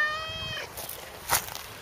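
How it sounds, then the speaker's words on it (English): A large cat gives a single harmonic meow at close range, fairly quiet, followed by faint rustling and a soft knock. "Oh, he's a big cat."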